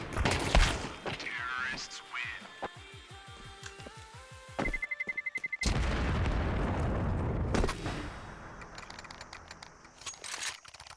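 Pistol shots in a Counter-Strike match on the Ancient map, a series of sharp, fast cracks with booms, layered over game music, effects and clatter, moderately loud and busy throughout.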